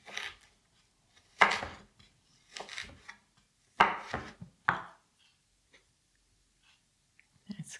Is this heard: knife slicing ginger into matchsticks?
yes